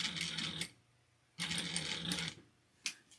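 Sewing machine back stitching across a seam on a clutch bag, two bursts of rapid close mechanical stitching separated by a pause, then a short final whir.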